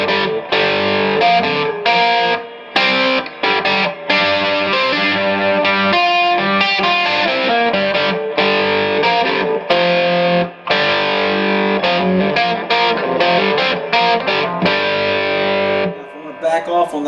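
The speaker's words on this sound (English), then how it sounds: "Back off on that distortion." Heavily distorted electric guitar plays loud and sustained, with long ringing chords broken by short gaps, steady throughout and up close, with a brief quieter tail at the end.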